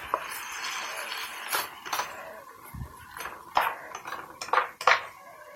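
Zucchini noodles tossed with a little sauce in a pan over medium-high heat, giving a series of close clinks and scrapes of a utensil against the pan, with quiet sizzle underneath.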